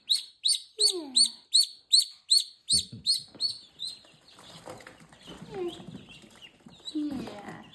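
Young ducklings peep close by in a quick, regular string of high, sharp calls, then continue more scattered and softer as people talk over them.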